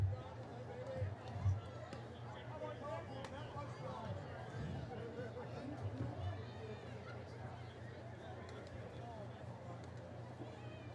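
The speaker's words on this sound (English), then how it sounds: "Healthy crowd still on hand here at Lowell Park." Steady crowd murmur and chatter at a Cape Cod League summer baseball game between Falmouth and Cotuit at Lowell Park on the 4th of July, a continuous low, moderately loud hubbub with no single standout sounds.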